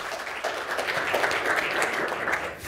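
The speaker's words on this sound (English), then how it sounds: "I'd like to give Ben a round of applause." An audience at a Science Gallery night talk applauds, a dense, steady burst of many hands clapping that holds evenly and eases off slightly at the end.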